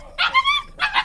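A German Shepherd puppy gives two quick, close, high yipping barks with whiny tails, loud and alone.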